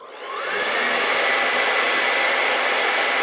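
A hair dryer blows steadily, starting up and holding a loud, constant whir as it dries thickly applied paint on a painted vase, with no talking.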